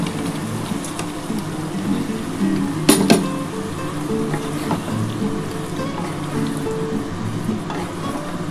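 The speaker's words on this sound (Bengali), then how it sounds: "আমি এবার এই যে চিকেনটা দিয়ে দিচ্ছি" Chicken pieces go into a pot for chilli chicken, giving one sharp metallic clink and a brief clatter over a soft, steady background sizzle.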